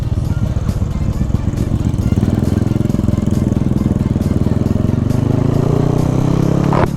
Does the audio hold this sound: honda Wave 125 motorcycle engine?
yes